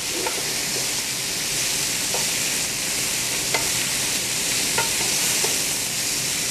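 Peppers, onions and venison sizzle steadily in a hot pan, a dense continuous frying hiss with occasional faint utensil clicks as the food is stirred; no voices.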